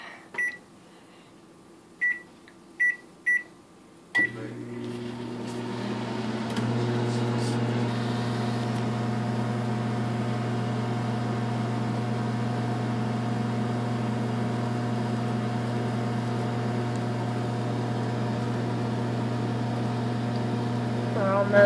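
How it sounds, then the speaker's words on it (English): Several beeps of a microwave oven being set sound first, then the oven starts with a click and runs with a steady, loud hum and drone, cooking a bar of soap inside. "Now that we put it in the microwave, going to set it for 2 minutes."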